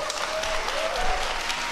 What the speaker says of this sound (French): écoutez le public de Fox News applaudir RFK Jr.